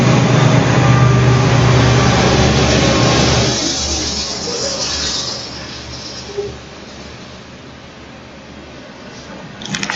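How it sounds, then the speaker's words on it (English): A very long train passes close by near a home, a loud, steady low rumble and rolling roar that slowly eases and fades toward the end, with no talk over it. "pardon the train, there's a train that's about to go by."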